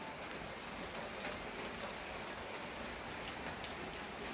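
A light drizzle falls steadily, a soft even patter of raindrops on a surface that holds at a constant level throughout, with no voices.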